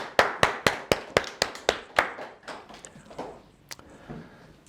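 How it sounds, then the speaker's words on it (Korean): Church congregation clapping after a Korean sermon: a run of sharp, rhythmic claps in steady beats, loud and close at first, then thinning into scattered, fainter claps as it dies away. "박수로 하나님께 영광."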